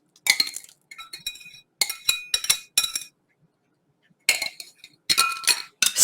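Beaten eggs being stirred into flourless chocolate cake batter, a utensil clinking sharply against a glass bowl in quick bursts of rapid strokes separated by short pauses, close and clear.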